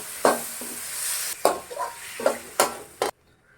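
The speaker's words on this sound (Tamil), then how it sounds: "இப்போ நம்ம ஒரு மூணு தக்காளி ஆட் பண்ணிக்கலாம் இதை கொஞ்ச நேரம் நம்ம நல்லா வதக்கிக்கலாம்" Three tomatoes and onions sautéing in a pan, loud sizzling broken by several scraping stirs and a clink of the spatula, close by, cutting off abruptly, with no speech.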